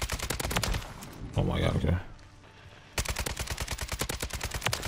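A Kastov 762 with a laser gun conversion kit in Call of Duty MW3 fires rapid, loud automatic bursts up close, with a brief pause in the middle where a player speaks.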